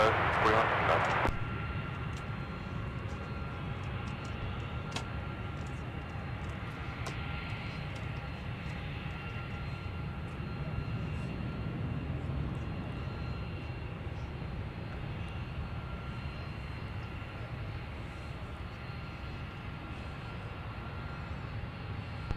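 A fixed-wing airliner arrives at Minneapolis–St. Paul airport, a steady broad engine roar that holds fairly loud and even throughout, with a brief sharp burst at the very start and faint radio chatter beneath.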